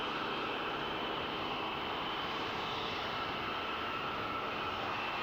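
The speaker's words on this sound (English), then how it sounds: "And from the world's fastest passenger jet to the first." A supersonic passenger jet returning from a pleasure flight at an air show roars steadily, a broad, fairly distant and muted engine rumble that holds level throughout with no voices.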